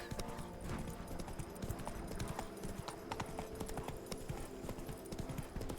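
Hoofbeats of Roach, a horse in The Witcher 3: Wild Hunt, a steady rapid clip-clop rhythm of galloping hooves on a road, continuous and fairly close, with game ambience underneath.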